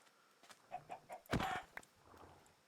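Minecraft chicken gives a few soft, short clucks in a quiet game scene, followed by one louder sharp hit or squawk.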